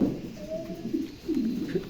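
A large pigeon gives low, soft cooing calls in a short rolling series, close and clear, with no talk over it.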